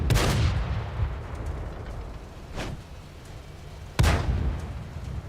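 A tank cannon fires in a video game, booming twice with long rumbling decays, one blast at the start and another sharp, louder one near the end, with a fainter thud in between.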